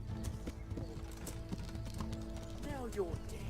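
Steady clip-clop of horse hooves trotting close by in the video game Kingdom Come: Deliverance, with a brief whinny near the end.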